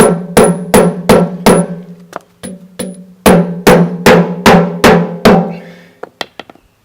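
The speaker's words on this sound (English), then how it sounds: "So I'm going to hit the head of the bolt to give me more travel for hitting the spindle." Hammer blows on a bolt head drive out the spindle of a Kenmore 970-c42062-00 washing machine during a bearing teardown, a run of about a dozen sharp metallic strikes in quick groups with ringing decay, close and loud, no talk.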